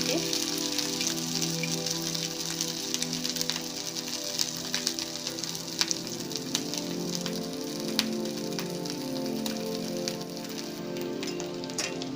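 Aloo patties shallow frying in oil in a pan, a steady dense sizzle and crackle running evenly throughout with no talking.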